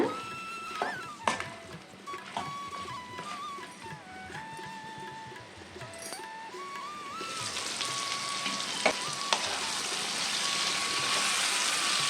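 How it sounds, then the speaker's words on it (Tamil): Eggplant gravy for biryani sautéing in oil in a pan, a steady hiss and crackle that grows brighter and louder toward the end, close and continuous with no talking. "இது ஒரு பத்து நிமிஷம் அப்படியே எண்ணெயிலே வதங்கட்டுங்க"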